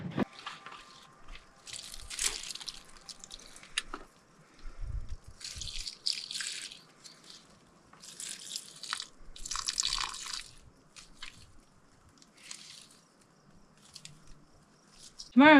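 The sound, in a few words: watering plants, water dripping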